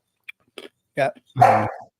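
A dog barks nearby indoors: a few short yips, then two louder, fuller barks, the last one drawn out, in a quiet room.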